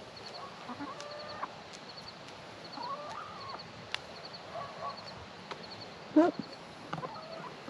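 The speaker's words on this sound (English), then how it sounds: "I think that might be a rooster." Chickens and a rooster on a small off-grid farm in Colorado cluck and squawk in scattered bursts, close and fairly faint, with one louder squawk near the end and a person murmuring briefly.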